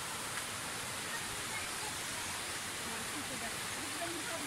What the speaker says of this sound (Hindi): यही झरना उपरों आ रहा जी